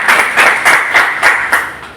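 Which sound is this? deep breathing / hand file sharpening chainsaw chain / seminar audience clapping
seminar audience clapping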